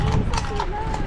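Horses walking outdoors in chilly weather, hooves clip-clopping in a steady rhythm under continuous nearby talking.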